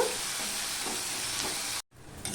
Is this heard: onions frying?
yes